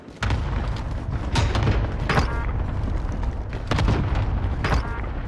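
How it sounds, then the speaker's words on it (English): Cluster airstrike explosions in Call of Duty: Modern Warfare boom in a rapid series of loud, rumbling blasts, one after another without pause and with no talk. "Cluster strike away."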